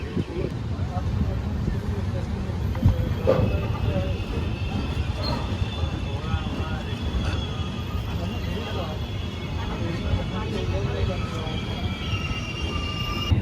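Steady rumble of a passenger train crossing Botad Junction, with rattling carriages and faint high wheel squeal, continuous throughout, with people talking over it.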